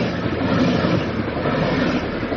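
A train running at full speed produces a loud, continuous rumbling roar with a broad rushing noise throughout, steady and close, with no voices.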